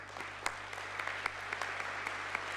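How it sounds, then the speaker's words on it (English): A convention audience applauds in a large hall during a closing plenary, faint but steady clapping with a few sharper claps standing out. "give them a warm round of applause"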